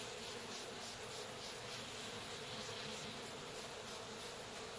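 Dense, steady buzzing of many honey bees swarming around a large opened hive during beekeeping, a continuous close hum with no voices.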